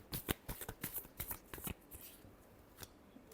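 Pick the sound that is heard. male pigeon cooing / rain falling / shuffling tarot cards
shuffling tarot cards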